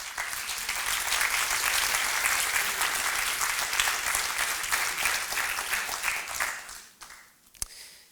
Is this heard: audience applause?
yes